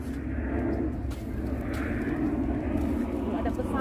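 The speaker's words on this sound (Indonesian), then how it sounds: "Pesawat nih, pesawat nih. Baik sih, pesawat." A plane passes overhead outdoors at a blueberry and strawberry farm in Abbenes, Netherlands, a steady low engine roar holding throughout at moderate loudness, with no talk.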